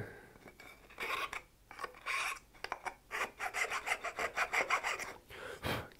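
Rasping strokes of a file or chisel clean small wisps and burrs from inside a hand-cut wooden dovetail joint, a quick run of close, rhythmic scrapes that speed into a dense series before stopping, with no talk.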